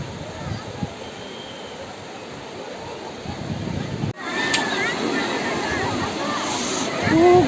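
Continuous rushing surf of waves at Om Beach, Gokarna, growing louder partway through, with people talking faintly underneath.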